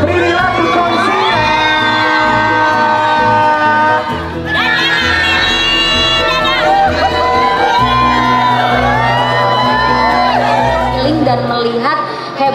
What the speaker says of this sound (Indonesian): Langsung kita beri tepuk tangan yang paling meriah.